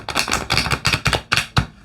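A new oracle card deck being shuffled up close, a run of six or seven quick papery slaps and riffles in uneven rhythm, fairly clear with no talking.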